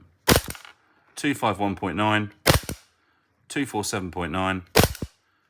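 A WE Sig Sauer P229 airsoft pistol firing green gas, three sharp, loud, close cracks spaced a couple of seconds apart, with someone talking between the shots.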